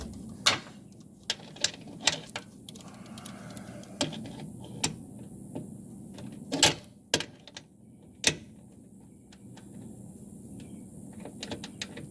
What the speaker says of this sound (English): We have our torque wrench here. We've already got it set.